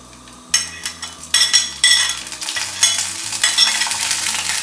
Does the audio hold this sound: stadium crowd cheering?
no